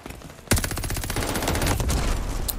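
Rapid automatic AS44 rifle fire in Call of Duty: Vanguard rings out as a loud, sustained burst of closely spaced shots after a short quiet lead-in, continuing to the end.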